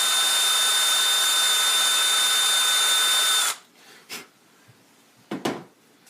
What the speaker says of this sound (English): And I didn't sand much.